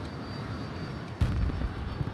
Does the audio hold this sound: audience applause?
no